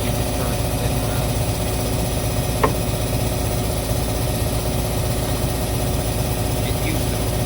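A Terex machine's engine idles with a steady low diesel drone and vibration, near and constant throughout, with one brief faint click partway through.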